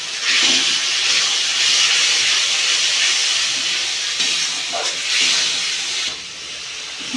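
Water poured into spice paste frying in oil for an egg curry, producing a loud, steady steamy hiss and sizzle throughout with a few bubbling surges.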